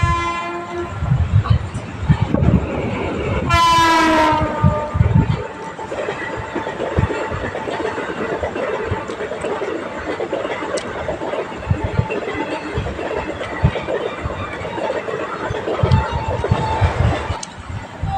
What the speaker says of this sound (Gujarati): ટ્રેન નીકળી ગઈ